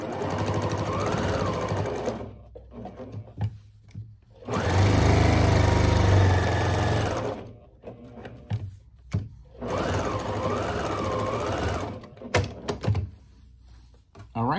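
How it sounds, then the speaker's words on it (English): A sewing machine top stitches the edges of a quilted tennis bag in bursts of steady whirring, with someone talking in between the runs. "And we're ready to top stitch this particular one. So I'm just gonna go at the edges."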